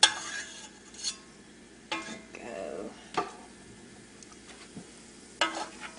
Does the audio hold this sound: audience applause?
no